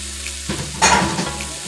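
Seasoned salted butter sizzles as it is stirred in a hot pot for jambalaya, a steady close frying hiss with a brief swell of scraping from the spoon.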